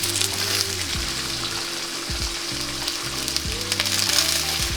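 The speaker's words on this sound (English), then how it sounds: "You're gonna let these all sizzle up." Food sizzles and crackles steadily as it fries in a hot pan, a dense continuous hiss with a low steady hum beneath and no talking.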